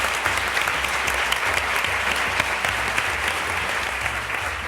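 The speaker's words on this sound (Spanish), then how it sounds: "Un aplauso para él." Studio audience applauding a radio and television comedian on a humor talk show, a full, even wash of clapping that holds steady and close for the whole stretch without talk.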